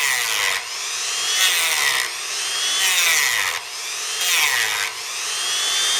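Rotary tool bit grinding and polishing a metal engine part on a 1966 rototiller, repeated high whining bursts of about a second each, separated by brief dips, close and loud.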